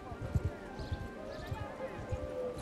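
Horse hooves of an approaching caravan in the Bannerlord game with The Old Realms mod, heard as a steady run of soft, low clopping thuds over a busy ambient background with faint voices.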